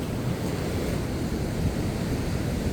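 Ocean waves wash steadily onto Cocles Beach in a continuous, broad surf roar, with sea breeze buffeting the microphone throughout and no break in the rush.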